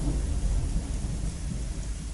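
A thunderstorm in the video game Deponia gives a steady, loud wash of rain with deep rumbling thunder throughout, with no voices.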